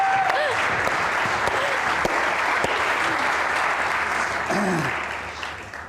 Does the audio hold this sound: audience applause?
yes